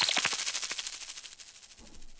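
An electronic sound in Ableton with an LFO-modulated delay time produces rapid, bright stuttering repeats that warble and blur, fading and slowing over a couple of seconds, with a faint low thump near the end and no voices.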